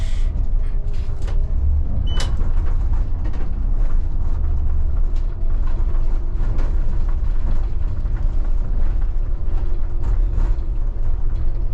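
ELECTRON city bus heading back to the depot after a shift, a steady loud low engine and road rumble throughout with faint rattles and a brief higher mechanical tone near the start, no talking.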